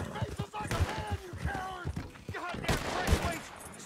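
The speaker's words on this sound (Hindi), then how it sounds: "यहाँ पर मुझे गोली चलने की आवाज आई है" Gunfire in the video game Red Dead Redemption 2: several sharp shots ring out in quick succession among other game noise, fairly loud and close.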